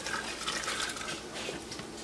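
Cooking water is poured into a pot while making Michoacán corundas, giving a short, steady splash that runs for about two seconds with no talk over it.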